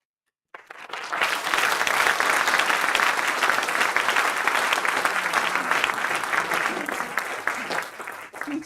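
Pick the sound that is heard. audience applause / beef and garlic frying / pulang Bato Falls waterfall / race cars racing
audience applause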